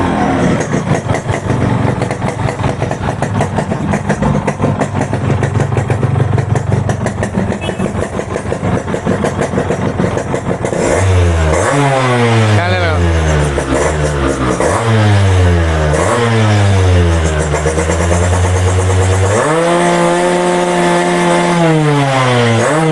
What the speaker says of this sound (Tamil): இந்த வண்டி இன்ஜின் பீட் சவுண்டு கேட்கலாம்